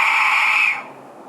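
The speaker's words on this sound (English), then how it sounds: "I need to get a different death whistle." A death whistle blown outdoors at night gives a loud, shrill, airy shriek that holds for under a second and then cuts off, leaving a faint background.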